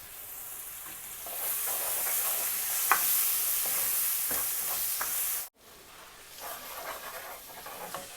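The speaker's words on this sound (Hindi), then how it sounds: "अब इसको हम अच्छी तरह भून लेंगे प्याज और लहसुन अदरक की पेस्ट डाल के" Oil sizzles steadily as an onion, garlic and ginger paste fries in a pan, with occasional stirring scrapes and a brief drop-out partway through.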